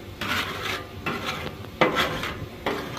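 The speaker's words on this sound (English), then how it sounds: "So then you can just grab your scraper. You can clean as you go." A metal scraper grates repeatedly across a Blackstone griddle while burgers cook, producing about four rasping strokes in an uneven rhythm over a faint sizzle.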